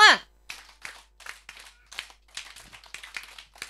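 A group at a kindergarten information session claps out a short counted pattern, a series of sharp, separate hand claps in small clusters with quiet gaps between them, fairly faint and close.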